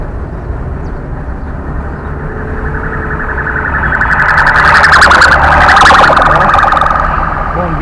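A motorcycle fire brigade's siren wails past in a crowded spot, its warbling tone swelling from a steady traffic rumble to a loud peak mid-passage before easing slightly.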